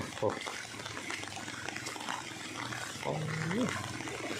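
Floodwater rushes through a Thai village, its steady broadband roar surrounding nearby voices that talk and call out over it.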